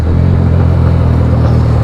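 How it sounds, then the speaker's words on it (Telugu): Steady close engine and road rumble while riding a motorcycle along a busy Vijayawada highway outside Hyderabad, passing car traffic blending into a continuous drone. "ఒక రేంజ్లో ట్రాఫిక్ ఉంది."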